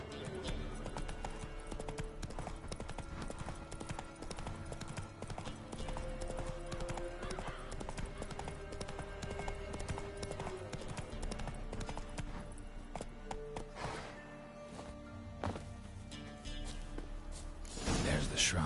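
Geralt's horse Roach gallops in The Witcher 3, a continuous fast clip-clop of hooves with a brief whinny, steady and moderately loud under occasional game speech.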